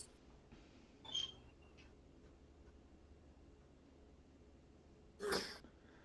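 A single sharp sneeze bursts out near the end over a faint steady background hum, with a smaller breathy sound earlier.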